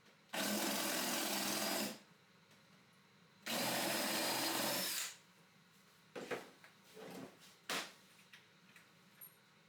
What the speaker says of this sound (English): recess them a little bit into the base with a Forstner bit hole